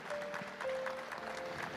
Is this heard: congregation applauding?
yes